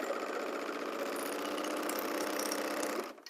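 A sewing machine runs continuously, stitching the neckline of a playsuit with a steady rapid mechanical whir close by, stopping abruptly near the end.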